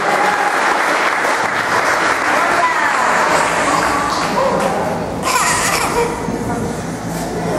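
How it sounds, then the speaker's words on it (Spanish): A church congregation applauding loudly and continuously, a dense roar of many hands filling the hall, with voices calling out beneath the clapping. "Brindemos fuerte aplauso a nuestro Señor Jesucristo"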